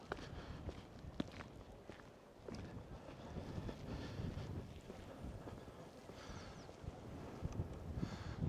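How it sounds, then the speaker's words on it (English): Wind gusts steadily across the microphone on a coastal walk from Castletown to Scarlett on the Isle of Man, a faint, continuous rushing, with footsteps mixed in beneath it. "I feel a bit cooler with the wind. You can feel itself, hear it probably picking up round about now."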